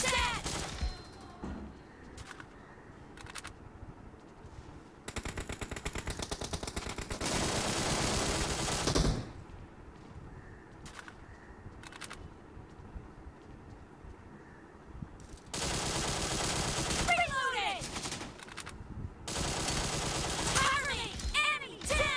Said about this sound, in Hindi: कहाँ पे फायरिंग हो रही है?